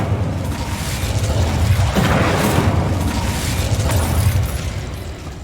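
The Incendio fire spell in Hogwarts Legacy erupts with a deep booming whoosh that swells, holds as a roaring burst for several seconds, then fades.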